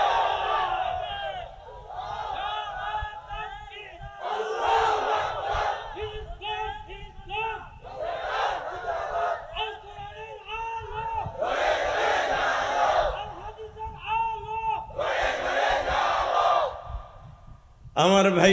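A large crowd at an Islamic sermon gathering chants takbir in loud, repeated bursts, roaring responses separated by brief pauses, the chant rising and falling in a steady call-and-response rhythm.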